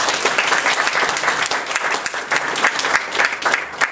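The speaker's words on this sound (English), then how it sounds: "so let's give them a round of applause as well." A full round of audience applause at a neural networks talk, dense and loud clapping from a crowd of listeners that holds steady throughout.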